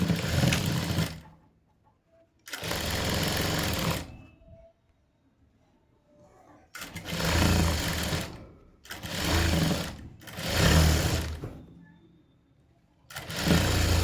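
A sewing machine stitches piping onto a blouse in about five close, loud bursts of rapid whirring, each lasting one to two seconds and separated by short silent pauses.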